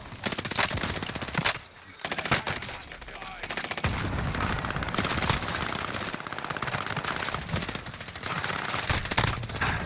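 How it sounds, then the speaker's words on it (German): Rapid automatic gunfire in a battle royale shooter, dense bursts of shots crackling nearly continuously and close, with a brief lull before the firing resumes, under faint voices. "Wir werden beschossen."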